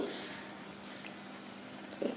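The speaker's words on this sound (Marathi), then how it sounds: "हे पाणी घालायचं." Soaked tamarind water is poured into a pan of cooking taro-leaf curry, giving a short, soft, steady splash-like wash with a small burst at the end.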